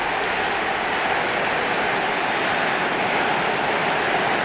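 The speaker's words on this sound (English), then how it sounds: "Even some of the opposing fans are clapping that." Dense, steady applause from a stadium crowd in the eFootball video game, a continuous wash of clapping with no breaks or voices standing out.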